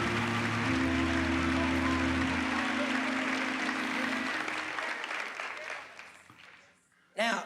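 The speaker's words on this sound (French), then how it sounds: "ne soyez pas silencieux, donnez-lui une grande acclamation" An open-air outdoor gospel gathering's audience applauds and cheers loudly. A voice carries over the crowd before the clapping thins and fades out, then a short final burst of claps ends it.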